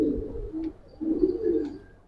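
Giribaz tumbler pigeon cooing close by, two soft, low throaty coos with a short gap between them in a quiet setting.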